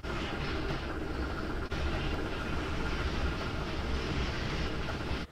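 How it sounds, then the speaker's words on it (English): A mixed freight train hauled by steam locomotive 3879 rolls past in Cincinnati, a loud, continuous rumbling roar that holds steady throughout with one brief dip. "Then a mixed freight comes through with a 3879."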